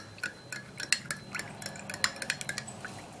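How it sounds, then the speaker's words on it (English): A spoon stirs a bedtime drink in a glass, giving a quick run of bright clinks and taps against the glass, close and fairly quiet, with no voices. "now we're just going to stir it all up"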